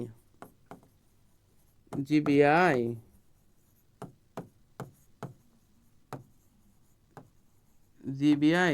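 Chalk or marker taps and scratches on a classroom board during a semiconductor and electronics lesson, coming as sharp, irregular strokes between stretches of a teacher's speech.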